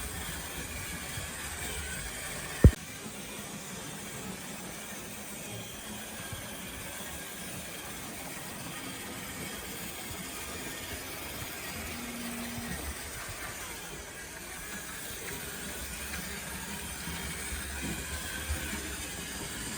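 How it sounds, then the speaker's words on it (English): Marklin model train engine running steadily on an indoor layout track, a continuous low rumble and hiss with one sharp click near the start, no voices. "There's that lovely Marklin engine."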